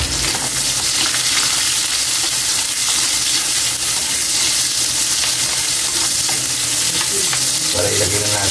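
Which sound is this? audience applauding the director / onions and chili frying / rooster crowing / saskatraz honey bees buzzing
onions and chili frying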